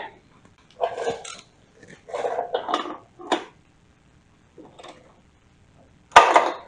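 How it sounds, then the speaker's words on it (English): A metal spark plug socket clanks and scrapes while being fitted onto a spark plug on a Suzuki K11 engine, giving several short, close metallic bursts with pauses between them and a sharper clatter near the end. "Get my trusty spark plug socket."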